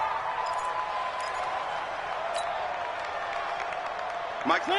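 Steady stadium crowd murmur at a UFL football game in Atlanta, a broad continuous roar under a commentator's voice with no sharp cheering burst.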